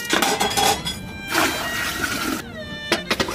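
Raw lamb chops going into a pot of cold water for a grassland-style boil, with a few close metallic clinks and clatters of pot and utensils against a light watery splash.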